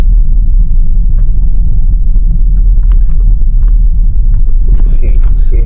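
Tesla car on Autopilot driving through one to two inches of snow, with a steady loud low rumble of road and motor noise that continues throughout.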